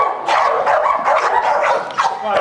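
A dog barks repeatedly during a dog obedience training session. The barks are loud, close and rapid, mixed with yips and whimpering, and carry on steadily with little pause.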